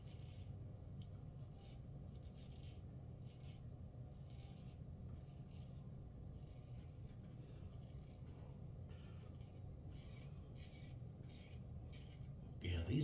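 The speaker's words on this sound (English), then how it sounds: "These blades aren't as smooth going against the grain as they are with the grain. And you can hear that." A razor blade drags against the grain during a wet shave, a faint, close, dry scraping and rasping in repeated short strokes over quiet room tone, with a louder bump at the very end.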